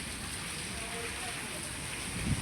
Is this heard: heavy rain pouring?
yes